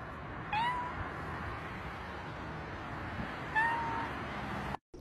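A cat meows twice, about three seconds apart, each a short rising cry heard fairly close over a constant low background hiss, with no speech.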